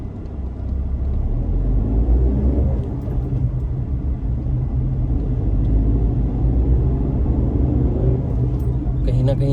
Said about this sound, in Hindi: अब देखते हैं कैसे उठती है 1200 सीसी का इंजन सीएनजी के साथ में।